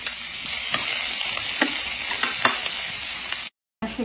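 Onions sizzling and frying in a pan as a dense, steady hiss with occasional stirring clicks, close and fairly loud, cutting out briefly near the end before resuming.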